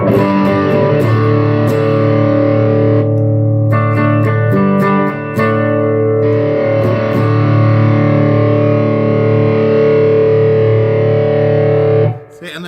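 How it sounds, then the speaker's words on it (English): An electric guitar plays through a Pink 1981 Inventions DRV distortion pedal. Loud, sustained distorted chords ring out, broken by a few short pauses and choppy stabs before the final chord fades. "To me is just like a real kind of basic everyday kind of quote unquote distortion that just sounds really"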